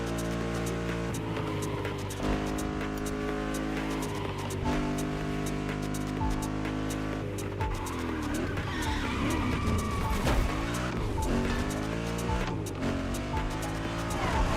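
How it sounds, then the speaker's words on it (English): A Mustang in the racing game The Crew Motorfest roars loudly and continuously, its engine note rising and shifting through gears over several seconds, with tire squeal and skidding. "You gotta love the sound of that roar of that engine from the Mustang."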